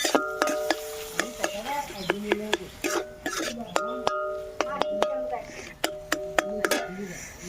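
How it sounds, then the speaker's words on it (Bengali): Eggs beaten in a bowl with a little salt, ahead of being cooked with Maggi noodles: quick irregular clinks and taps of utensil against bowl, close and fairly loud, with a stirring swish between strikes. "এবার ডিমটাকে ঘেটে নেব"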